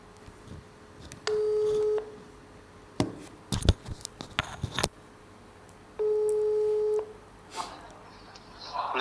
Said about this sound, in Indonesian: Dr. Jupendri Jafar, yang kita hubungi via telepon selulernya.